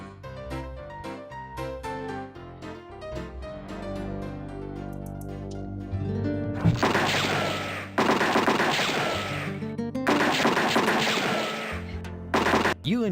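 Gunfire erupts outside the saloon in the Freddy Pharkas game as rowdy cowhands fire carelessly, loud bursts of rapid shots arriving in two long volleys after a stretch of western music, with yelling mixed in.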